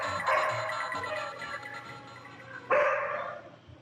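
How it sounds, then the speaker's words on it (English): A dog barks a few times nearby, sharp loud woofs with a pause between bursts, against a quiet indoor background. "I hear a dog."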